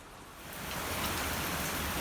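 Rain beginning outdoors, a broad hiss that swells within a second into a loud, steady downpour.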